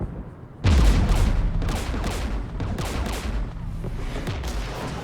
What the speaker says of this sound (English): Oh no. We're taking fire.